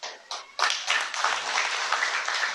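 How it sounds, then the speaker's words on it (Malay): Loud, dense clapping from a woman and others at an outdoor Parti Warisan political campaign rally in Kampung Abul, Kemabong, Tenom, building quickly into sustained applause with no talking. "isteri dia tepuk tangan kuat-kuat"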